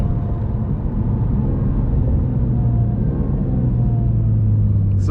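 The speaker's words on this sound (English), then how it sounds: "Bring the petrol engine back." Acura NSX petrol engine running while driving, a steady low rumble and drone with a slowly rising tone, close and continuous, with no talk.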